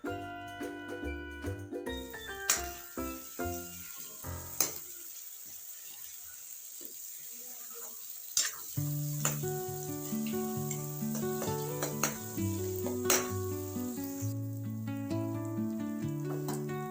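Hot oil sizzles steadily as a tempering for mustard greens (sarson ka saag) is made, while music with distinct melodic notes plays over it, with a few sharp clinks along the way.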